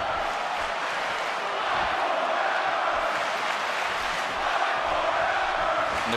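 A large wrestling arena crowd roars steadily throughout, a sustained, dense wash of cheering and shouting with no distinct voice standing out.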